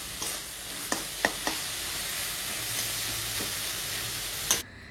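Dal chorchori with turmeric and coriander powder fries in a pan, a faint, even hiss broken by a few soft spatula taps, close but quiet, with no voices.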